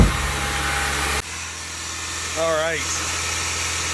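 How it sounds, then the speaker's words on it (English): A Honda Civic Si EP3 engine catches and runs rough on the start, then drops to a steady idle while someone speaks briefly and a short whining sweep rises over the running motor. "Let's see if it fires up. It does run."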